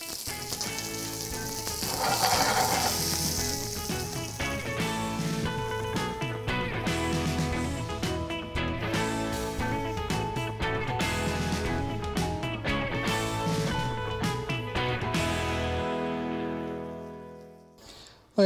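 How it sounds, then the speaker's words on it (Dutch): Asparagus sizzles and crackles steadily in a hot pan, a loud continuous frying hiss that fades out near the end. "De pan is goed heet. Daar gaan de asperges in."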